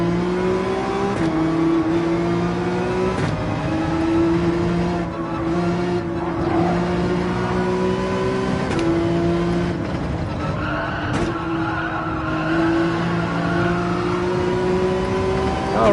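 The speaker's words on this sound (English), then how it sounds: "That Mazda is quick, but at least I can hear him coming" A Mazda race car engine in Gran Turismo 7 drones loud and steady, its pitch rising gradually through gears. Faint tire and track noises sit beneath the continuous engine note.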